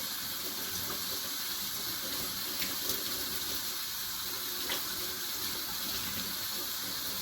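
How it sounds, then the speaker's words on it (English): Wild onion rinsed under a running kitchen tap, a steady, even rush of water splashing close by, with a couple of faint clicks and no talking. "Washing it right here, just rinsing it off good."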